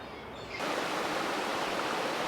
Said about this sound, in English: And there's water escaping from the forest in so many directions. Little creeks and streams everywhere.